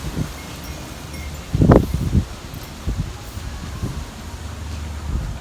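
Wind stirs plants in a patio container garden in Akron, Ohio, giving soft intermittent rustles and gusts against the microphone, with one louder buffet near the middle.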